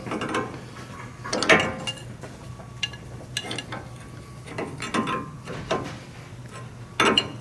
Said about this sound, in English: tighten back down the jam nut back to the inner tie rod